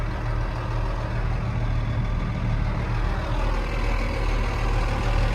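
A John Deere 8300 four-wheel drive tractor with rear duals and a rebuilt engine idles steadily, a constant low diesel rumble with a humming drone, close and even throughout with no talk.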